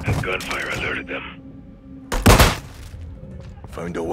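Gunfire in the Modern Warfare 2 campaign: a short, loud burst of shots cracks out midway, framed by game voices and radio chatter before and after.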